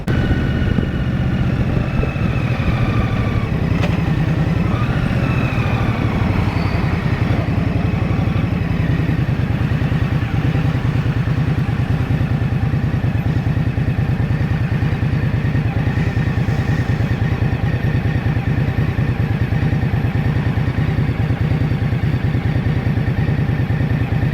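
A 2023 Indian Scout Rogue motorcycle engine roars steadily and close up for the whole stretch, its deep rumble climbing in pitch early on as it revs toward high RPM, with no voices over it.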